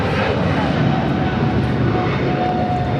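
Japan Air heavy jet on its takeoff roll at Los Angeles International Airport, a steady, loud, continuous broadband engine roar that holds constant throughout, with no talk over it.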